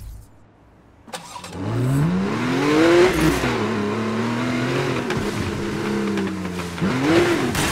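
A car engine in the 2012 PC version of Need for Speed Most Wanted starts up after a quiet moment, then revs and accelerates with rising and falling gear-change sweeps, loud and close.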